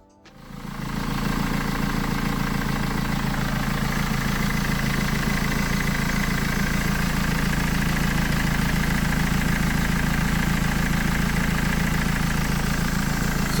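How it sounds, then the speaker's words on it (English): A BMW E46 320d diesel idles steadily after starting following an EGR thermostat leak repair, catching quickly and then holding a constant low rumble with diesel clatter, close and alone. "we should be able to start the engine and inspect for any leaks."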